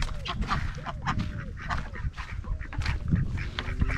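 Farmyard ducks, with males attacking other ducks, call in a continuous noisy burst of quacks and honks, dense and fairly near, filling the whole stretch without talk.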